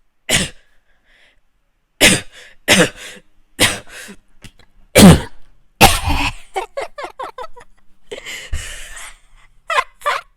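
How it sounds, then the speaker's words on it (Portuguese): A man coughs repeatedly in harsh, throaty bursts, followed by a rapid sputtering series of coughs and throat clearing, close and loud. "Porém, ele começa a tossir."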